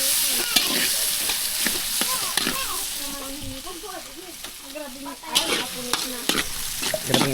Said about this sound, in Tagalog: Luto ng sauce ng spag.